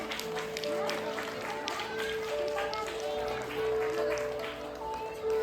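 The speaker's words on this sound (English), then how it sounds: "Clappings everyone for them." An audience claps for prize winners at a school Diwali and sports week prize distribution ceremony, a soft, diffuse spread of many hands heard at a distance under a microphone voice and a faint steady tone.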